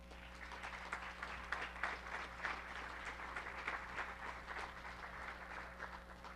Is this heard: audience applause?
yes